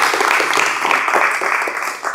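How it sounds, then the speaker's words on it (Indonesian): A classroom audience at an automotive electrical teaching session gives a short, loud burst of dense clapping for a student, Abdullah Najah, lasting about two seconds. "Tepuk tangan untuk Mas Abdullah Najah"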